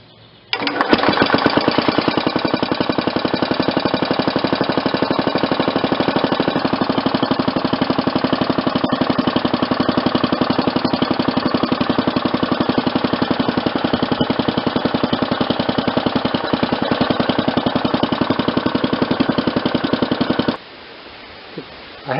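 A Briggs & Stratton engine fitted with a replacement ignition fires up and runs steadily for about twenty seconds with a loud, fast, even popping exhaust beat. It then cuts off abruptly into near silence.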